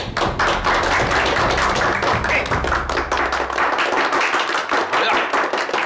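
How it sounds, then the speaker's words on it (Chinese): Crowd of people clapping in applause after a police oath ceremony, dense rapid hand claps filling the room at steady loudness. "为你们鼓掌。"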